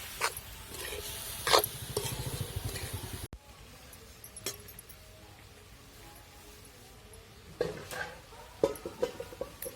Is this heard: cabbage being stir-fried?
yes